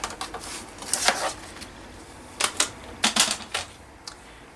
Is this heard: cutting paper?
yes